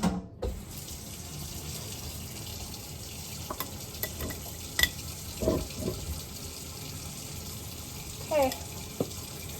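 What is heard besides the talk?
water running into the sink to soak dishes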